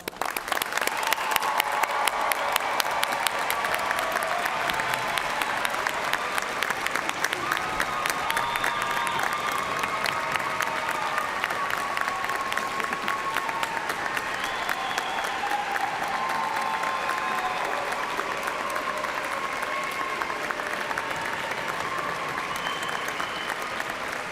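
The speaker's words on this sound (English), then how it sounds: "let us recognize with a hearty round of applause Eastern Kentucky University's newest graduates" Sustained applause fills a large hall as the audience at a fall university convocation for Eastern Kentucky University graduates claps steadily for over twenty seconds, with scattered cheers and shouts mixed in.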